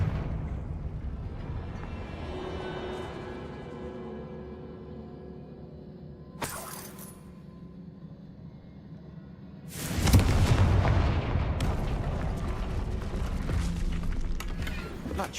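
A Confringo fire spell blast in Hogwarts Legacy: a brief sharp crack early on, then a loud, broad fiery burst that rolls into a sustained crackling rumble fading slowly.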